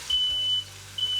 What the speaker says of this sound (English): And of course my smoke detector is going off.